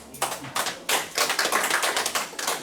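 A small group claps in a brief patter of applause, in uneven waves that rise and fade, fairly close.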